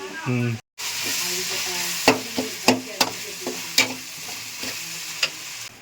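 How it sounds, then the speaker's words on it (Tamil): A pot of fish curry bubbles and sizzles on the heat, with a spoon stirring and clinking against the metal several times at irregular intervals, close up. "மீன் குழம்பு கொதிக்குது"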